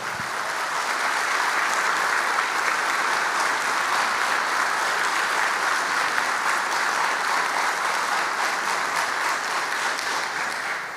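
Audience applause at the 2022 Cardinal Ignacy Jeż Award gala in Koszalin, a dense, steady wash of many clapping hands that holds at an even, full level for the whole stretch, with no voices over it.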